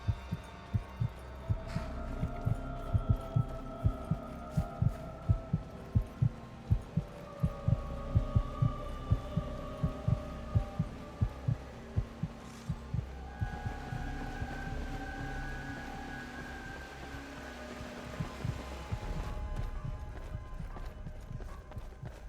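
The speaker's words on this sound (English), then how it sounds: "I could hear their heartbeats as one, like a chanting call to feed" A steady, throbbing heartbeat pulses through the whole stretch as a sound effect in a dark Skyrim vampire story, with soft layered hums and low droning tones beneath it and no talking.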